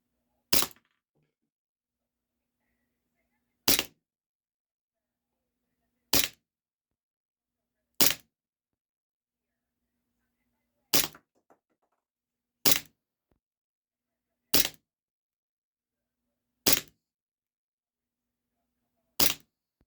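HFC DarkHawk 6mm gas blowback airsoft pistol firing steel BBs, nine sharp isolated cracks spaced a couple of seconds apart, close and loud with near-silence between shots.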